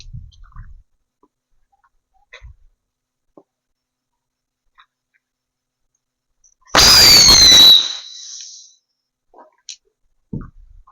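A single Diwali firecracker bursts at night in a village: one loud, sharp crackling blast with a whistling tone that slides downward, fading into a short tail. Only faint scattered clicks are heard before and after.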